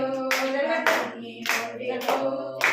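Hands clap in an even rhythm along with a Sunday school devotional song, about five crisp claps at steady intervals over voices singing.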